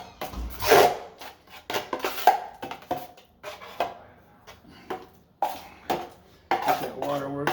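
Scraping and knocking of a tool against a bucket while mixing drywall mud with water, in uneven strokes, close and fairly loud, with brief pauses between.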